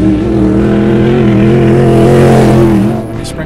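Sprint car engine at speed at the Ventura Fairgrounds track, a loud, sustained nasal roar with strong harmonic drone, holding steady for several seconds before fading slightly at the end.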